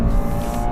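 A Subaru BRZ 2023 with the FA24 engine revs hard in second gear toward 7,000 RPM, a loud, steady close-up engine roar filling a brief moment with no pauses.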